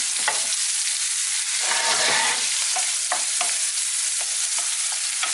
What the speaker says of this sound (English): I'm going to give them a little stir and leave them there to brown a little bit and soften up.